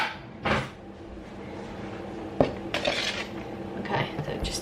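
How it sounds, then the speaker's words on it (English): A spoon knocks and scrapes in a bowl while biscuit dough is mixed, a few sharp clinks standing out over soft background noise at close range. "I'm literally just mixing it until the liquid is absorbed"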